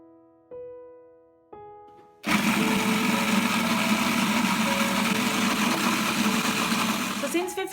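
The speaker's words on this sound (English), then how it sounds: "you need to close the blender and blend the green curry" A kitchen blender whirs loudly as it purees homemade green Thai curry paste with chili and a little water, starting after a few clicks and running steadily at full speed for several seconds.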